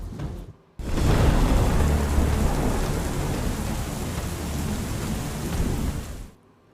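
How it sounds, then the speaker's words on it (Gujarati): Heavy monsoon downpour in Gujarat, with thunder rumbling through the rain. After a short, quieter start, the rain roars in loud and dense, a steady broadband wash that continues without a break until it drops away at the end. "આખરે ધોધમારની શરૂઆત થઈ ગઈ છે"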